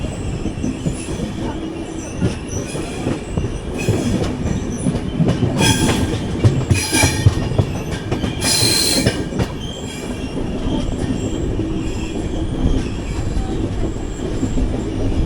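Running from Pune to Mumbai through the ghats, the Deccan Queen rumbles along with rhythmic wheel clatter and piercing bursts of flange squeal, loud and near, with no voices.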